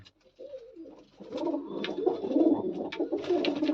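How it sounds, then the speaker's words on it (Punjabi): A white female pigeon coos several times in soft, rolling bursts, close by, with faint background noise and no talking. "ਆ ਕਬੂਤਰੀ ਹੈ ਬਈ ਚਿੱਟੀਆਂ ਦੀ"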